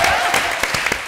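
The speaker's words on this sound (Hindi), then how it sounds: "जोरदार तालियां बच्ची के लिए।" A studio audience on a comedy TV show applauds a young girl, with loud, close clapping that comes in several sharp bursts over a brief stretch.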